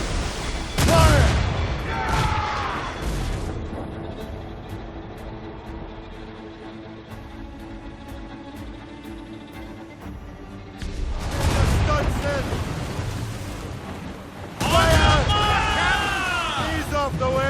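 Ship cannons firing in a naval battle in the video game Assassin's Creed Rogue: loud booming blasts come in bursts near the start and again near the end, with shouting crew voices over the roar and a quieter rumbling stretch between.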